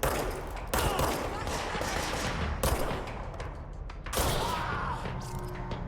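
Bursts of rapid gunfire from the video game Control, loud and dense, with heavy volleys starting at intervals and continuing almost without pause.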